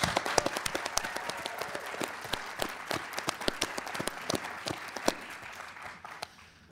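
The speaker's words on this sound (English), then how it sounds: "Let's give a big round of applause for our contestants, our hosts, and our sponsors." Scattered applause from a small audience at the Texas Quiz Show Championship semifinal, a middle-school competition, with uneven individual claps, fairly faint and without talk.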